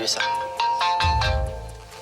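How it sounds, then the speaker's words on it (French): A phone ringtone plays a few bright repeated electronic tones, with a low thump partway through and no talking. "le téléphone sonne enfin"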